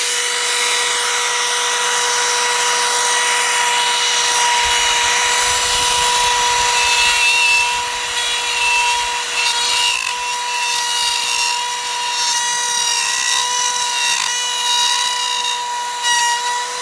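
A power tool plunging straight down into a wooden charcuterie board, a loud, constant high whine with a steady tonal hum, continuous and close for the whole stretch with no talk.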